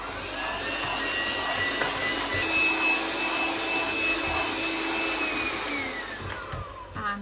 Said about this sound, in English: mixer back on.